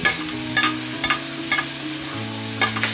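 Tomato frying in a pan over medium gas for egg bhurji, a steady close sizzle with a few stirring scrapes and clatters repeating throughout, no voices.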